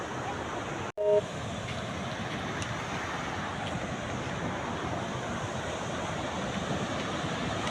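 The Gaganachukki waterfall in Karnataka roars as a loud, continuous broadband rush heard close by, steady throughout after a brief dropout near the start.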